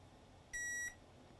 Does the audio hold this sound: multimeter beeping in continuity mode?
yes